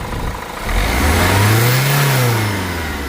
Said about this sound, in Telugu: ఒకసారి యాక్సిలేటర్ ఇవ్వమా.